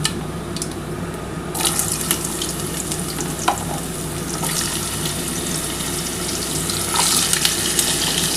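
Potatoes and papaya drop into hot oil tempered with whole cumin for a vegetarian soybean curry, giving a steady broadband sizzle with bursts of spitting and splashing as the pieces hit the pan.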